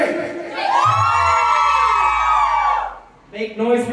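A crowd at a 21+ Halloween K-pop party erupts in loud cheering, whoops and shouting, a sustained roar that swells and fades before breaking into fresh yells.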